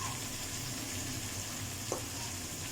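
Chicken frying in a karahi gives a steady, close hiss and sizzle throughout, with one brief scrape of stirring near the end.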